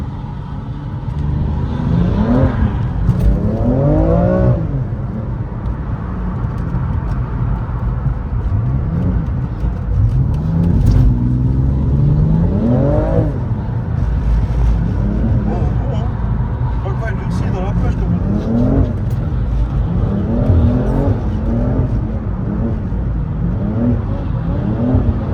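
A 1000-horsepower car on a race circuit during a track day, its engine revving and surging in repeated acceleration sweeps, heard from inside over steady road and wind noise while people talk throughout.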